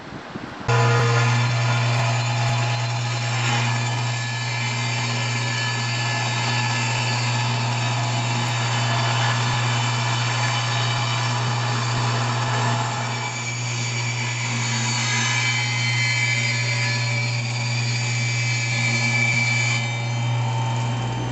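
A power saw trims a thin strip off the edge of a board for a jon boat seat, a loud steady motor whine running continuously from start to finish with slight shifts as it cuts.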